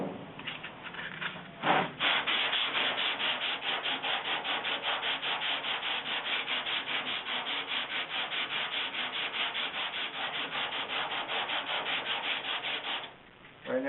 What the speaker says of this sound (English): Right now I'm just focusing on the filler, not really sanding into the primer yet.